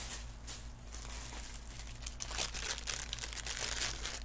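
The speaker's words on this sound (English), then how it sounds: "More crinkling, sorry." Packaging crinkles close by while a haul of items is unpacked, a continuous crackly rustle that grows louder and busier in the second half.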